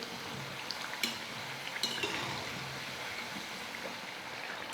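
Potato snacks fry in hot oil while a ladle stirs them: a steady, close, broad sizzle, with a couple of faint scraping clinks from the ladle.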